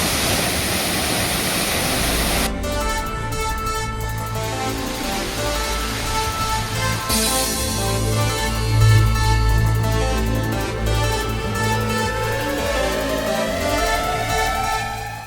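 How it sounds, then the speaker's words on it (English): A waterfall in a remote Bali creek, a steady close rush of falling water that fills the scene throughout, with a faint tonal hum rising in the background partway through. "One of very few people to come to this waterfall"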